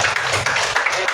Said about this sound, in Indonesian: Bapak Ibu tepuk tangan dong buat kita semua